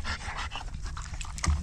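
A hunting dog pants rapidly and steadily up close, quick breathy huffs in an outdoor bow hunting setting, with a faint whimpery edge near the end.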